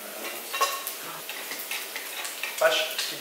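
Pork belly samgyeopsal sizzles and crackles in a hot pan, close and crisp, with utensils stirring and scraping in short bursts over the steady frying hiss.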